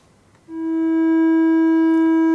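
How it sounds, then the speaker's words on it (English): A signal generator's steady triangle-wave tone switches on after a brief pause, holding one buzzy-soft pitch with faint odd harmonics, sustained and unchanging. "I can also have a triangular wave, which sounds a bit like this"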